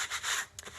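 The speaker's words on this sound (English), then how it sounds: "I'm going to take a sanding sponge." A worn sanding sponge rubs briskly along the painted edges of a dresser drawer, two close, raspy strokes in quick succession, alone without speech.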